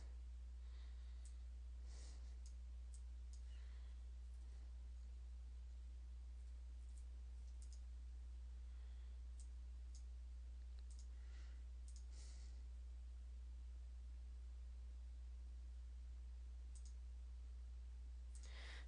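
A computer mouse clicks faintly and sparsely at irregular intervals over a steady low electrical hum in an otherwise quiet room. No one speaks.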